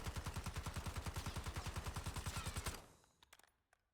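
Model L rifle fired in full-auto bursts in a video game's zombies mode: a rapid, steady string of about twenty loud, evenly spaced shots lasting under three seconds, then a few scattered fainter pops and clicks as the firing stops.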